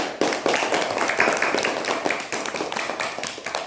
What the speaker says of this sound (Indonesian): kita tepuk tangan dulu untuk kelompok 1 visual